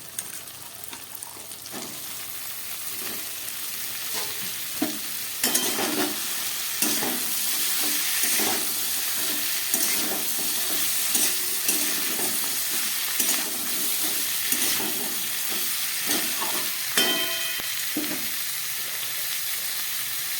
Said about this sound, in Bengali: পোস্ত কাঁচা লঙ্কাটা একটু ভেজে নিচ্ছি। এবার এই সজনে ডাঁটাটা দিয়ে দিলাম।